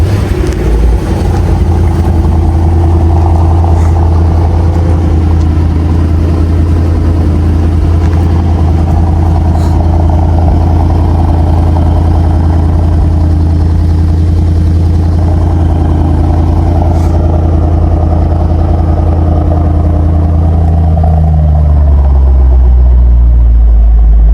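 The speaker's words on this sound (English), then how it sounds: "This AMG is powered by a hand-built 4-liter bi-turbo V8 pushing 630 horsepower and 900 Newton meters of torque" A Mercedes-AMG GT63 S four-door coupe's hand-built 4-liter bi-turbo V8 rumbling close by at a steady, loud idle, with a deep low drone that settles lower near the end.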